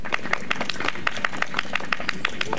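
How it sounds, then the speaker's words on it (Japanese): An audience claps together to vote for the white team at a stage contest, a brief burst of fairly sparse, rhythmic hand claps from a small crowd. "白組が良かったと思う方拍手お願いします。"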